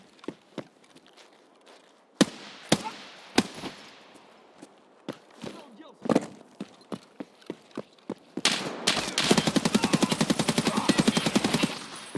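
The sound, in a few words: gunfire from video game, player shooting until out of ammo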